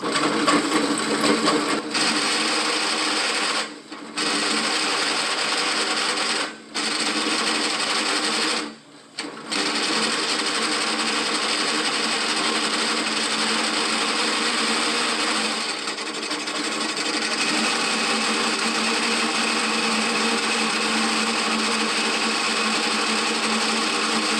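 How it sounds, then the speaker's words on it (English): A drill press dedicated and welded to a Mittler Bros tubing notcher grinds steadily through steel tubing with a loud, continuous, harsh whine, broken by a few brief dropouts as the cut pauses. "Now I've got this drill press dedicated and welded to this notcher."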